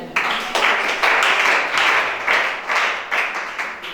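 A church congregation applauds in a series of rhythmic bursts of clapping, fairly loud and close, with no talking over it.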